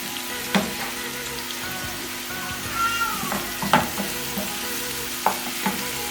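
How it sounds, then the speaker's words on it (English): Garlic and onions frying in a pan for spaghetti and meatballs sauce, a close, steady sizzle with a few sharp clicks and knocks of stirring scattered through. "put your garlic too. And let it cook for like 5 minutes until it's golden brown."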